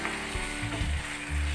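Chicken pieces and onion sizzle and fry in a pan, with a few scraping stirs and clinks of a utensil against the pan under the steady hiss.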